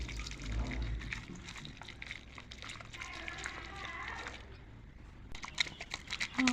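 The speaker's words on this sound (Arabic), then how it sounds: "ماما بقى هتصب على ايدي مية في نفس الطبق اللي احنا عملنا فيه الشامبو" Water is poured over hands into a bowl that held homemade shampoo, giving a soft trickling splash with faint lathery squelching, heard up close under low speech.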